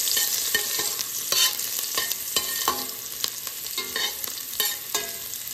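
Ginger and garlic frying in hot oil for a beef and vegetable stir fry, giving a continuous bright sizzle broken by repeated scraping stirs, close and unaccompanied by voices.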